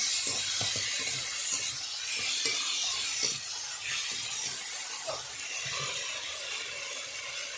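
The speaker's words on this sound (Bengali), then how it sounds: "ভালো করে মশলা আমি কষে নেব" A ground paste of ginger, onion and cumin sautés in a hot pan with a steady, close sizzling hiss, broken by scattered scraping stirs, and no talking.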